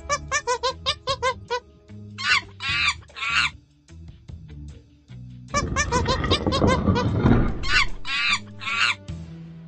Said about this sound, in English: Remember, two monkeys sounds like this.